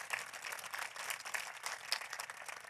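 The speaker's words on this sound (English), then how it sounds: "So I'd like you all to give a round of applause to all our sponsors" Audience at a literary festival in Kolkata applauding the event's sponsors: a faint, distant, steady wash of many hands clapping that carries on evenly with no voices over it.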